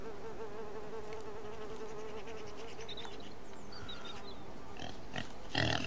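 Flies buzz steadily around pigs on a farm in the indie horror game MOLD, a close continuous drone with a few grunting pig sounds and a louder rustle at the end.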